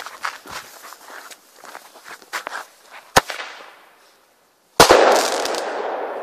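Airbomb fireworks go off outdoors before New Year, with a sharp crack, a brief silence, then a loud burst that trails into sustained crackling, following some scuffling footsteps.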